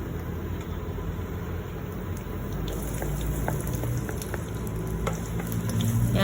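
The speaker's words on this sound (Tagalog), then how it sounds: "Yan, gigisa-gisahin lang natin siya mga lusot." Chopped garlic sautés in hot oil in a wok for chicken tinola, a close, continuous crackling sizzle with fine spattering pops and occasional stirring scrapes.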